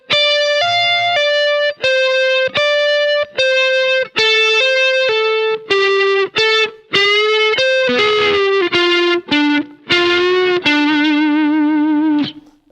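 A blues rock lick played very slowly on a distorted electric guitar: single sustained notes, each picked separately with short gaps, loud and up front, bending and sliding lower toward a final wavering note.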